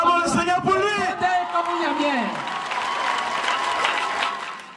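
Church congregation applauding, a full room of clapping that swells and holds steady, with a voice speaking over the start.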